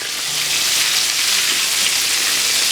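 Buttermilk-coated pork chops frying in a pan, a steady loud hiss and sizzle with no breaks, close up and alone.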